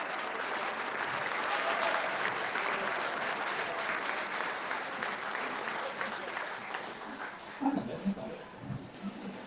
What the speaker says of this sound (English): So a big round of applause for our climb crew